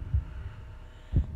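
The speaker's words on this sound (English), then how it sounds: "there's something we haven't heard much in this round, a bloody heartbeat." A PGA golf video game heartbeat effect: two deep, muffled thumps spaced about a second apart over a low hum.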